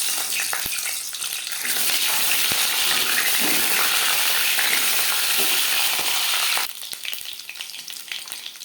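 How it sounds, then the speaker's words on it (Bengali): Duck eggs sizzle loudly in hot mustard oil, a dense crackling fry that holds steady and then drops to a softer, spattering sizzle near the end. "সরষের তেল গরম করে নেওয়ার পর দিয়ে দেব ডিম।"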